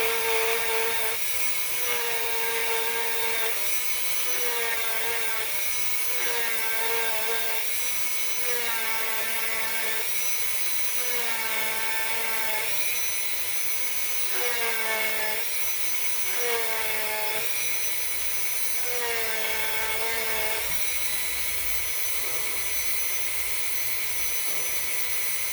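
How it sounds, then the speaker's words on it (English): A silver coin ring made from a 2014 American Silver Eagle is sanded with a power tool, giving a continuous high whine and a grinding hiss that rise and fall as the ring is pressed and lifted. "I'm just going to sand that part down that we just did all that deburring to"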